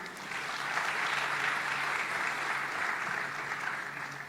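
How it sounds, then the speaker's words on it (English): A conference audience applauds on cue for Infosys leaders, including Narayana Murthy and Nandan Nilekani, on a stage at an event: steady, dense, sustained clapping from a large hall that fills the whole stretch without talk. "So another round of applause for that."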